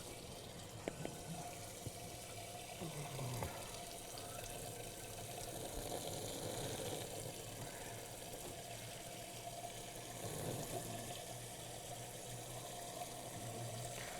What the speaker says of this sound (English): now I'm just going to go ahead and fill my machine up with water